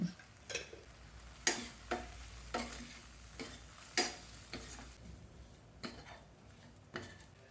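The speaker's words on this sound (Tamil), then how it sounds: "உப்பு போட்டு நல்லா கலந்து விடுங்க." A spoon scrapes and clinks around a pan as masala with turmeric and salt is stirred for murrel fish curry, with irregular taps over a soft sizzle, close up and without speech.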